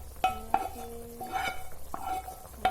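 A spoon stirs blended spice paste of garlic, ginger and turmeric in a pot for Padang-style oxtail soup, with soft scraping, a low sizzle and a few sharp clinks of utensil on metal.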